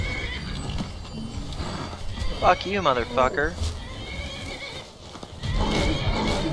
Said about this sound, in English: No, don't run away, you stupid horse!